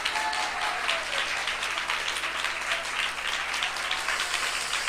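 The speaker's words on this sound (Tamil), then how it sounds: "ஒரு நிமிஷம் கை தட்டி" A church congregation claps hands during a Tamil Christian sermon, producing a continuous, dense wash of applause that stays steady and loud throughout, with no distinct single claps standing out.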